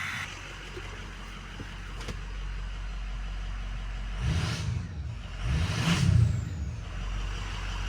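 A 2006 Ford F350 with a 6.0 Powerstroke diesel engine runs at a steady idle, a low continuous rumble with two brief swells in revs, heard close up and without any talking.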